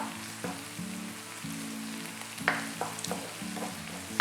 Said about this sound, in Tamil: நான் முட்டையை பிரேக் பண்ணிட்டேன்